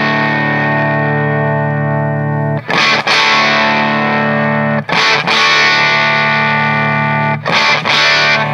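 Electric guitar through a 1985 Hughes & Kettner Crunch Master preamp at maximum gain with bright switch, loud sustained crunchy distorted chords ringing for seconds, broken by a few sharp new strums.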